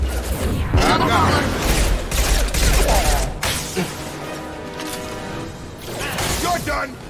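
Heavy sci-fi gunfire in the video game Mass Effect 2, loud sustained bursts and impacts filling most of the stretch, easing briefly before picking up again near the end.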